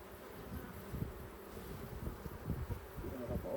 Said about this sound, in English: There's a lot of bees there though